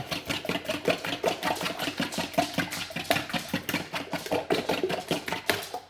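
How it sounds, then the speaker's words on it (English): Eggs being whisked for homemade pasta dough, a quick steady run of close, rhythmic clicking beats from start to finish with no voices. "I'm going to just kind of slightly whisk these eggs together real quick."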